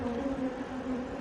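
An aggressive honey bee hive gives off a continuous low, droning buzz, a steady hum of many bees close by that rises and falls slightly, with no talking.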